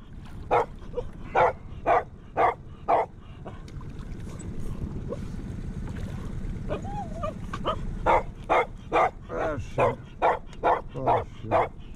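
A dog barks in two runs of sharp, evenly spaced barks, five or six at a time, fairly close, with a low steady rumble between the bursts.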